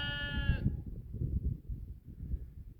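A sheep in the Mourne Mountains gives one short, clear bleat at the start, close by. Low rustling and wind-like rumble follow and carry on to the end.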